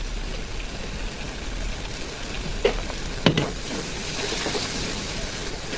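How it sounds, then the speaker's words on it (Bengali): Ground masala spices sizzling in oil for a mutton curry while being stirred, a soft continuous frying hiss broken by a couple of sharp scraping clinks from the spoon against the pan. "মশলা দিয়ে যতক্ষণ তেল না ছাড়ছে ততক্ষণ মশলাটাকে কষিয়ে নেবো সুন্দর করে"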